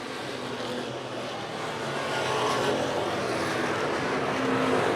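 Race cars at the Boss Hogg 150 race make a dense, loud roar of several engines that builds slightly as the pack draws nearer, with no voices over it.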